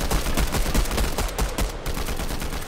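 Rapid pistol fire in a shooter video game, a dense string of loud, closely spaced shots cracking one after another with no talking.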